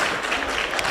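Audience clapping at the first South African accessible tourism summit, a dense steady burst of applause from a crowd filling the hall, brief and continuous without any voices over it.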